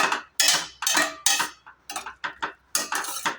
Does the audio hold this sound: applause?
no